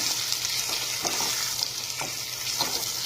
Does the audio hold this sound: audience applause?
no